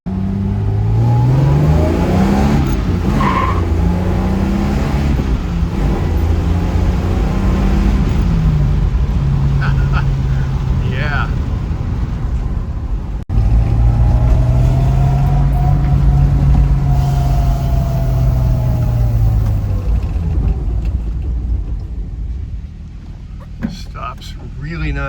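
A 1967 Jaguar E-Type 2+2 drives and accelerates, its engine revving up and climbing through gears, then dropping and pulling again, steady and close with road noise underneath.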